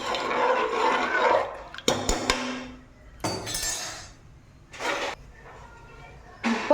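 Water poured into a pot of rice and prawns for cow-milk biryani, a few separate splashing gushes with clinks of metal and glass in between.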